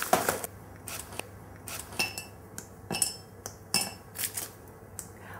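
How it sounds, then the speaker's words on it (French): A milk chocolate bar is snapped into squares, a series of short, crisp cracks and clinks arriving irregularly, close and distinct against a quiet background. "on va utiliser la tablette de chocolat au lait que l'on va casser en carrés"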